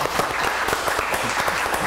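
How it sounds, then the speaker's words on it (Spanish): A studio audience on a Peruvian TV talk show claps to welcome a guest, a brief, fairly loud burst of applause with distinct sharp claps over a steady wash. "lo recibimos con un fuerte aplauso"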